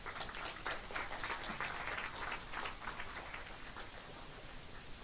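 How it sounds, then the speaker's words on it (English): An audience at an anniversary celebration gives a steady, faint round of applause, dense patter of many hands clapping from a distance, gradually thinning toward the end. "Once again, a big round of applause for them."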